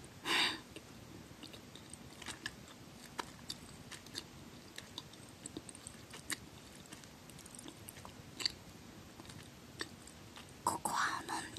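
Quiet, close chewing of large chocolate caramels, with soft sticky mouth sounds and occasional sharper clicks, alongside faint whispering and a louder burst near the start and end.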